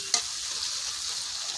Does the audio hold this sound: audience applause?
no